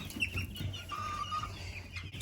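A rooster in a backyard flock gives low, soft clucks, faint and close over quiet farm ambience, a short murmuring run of throaty calls.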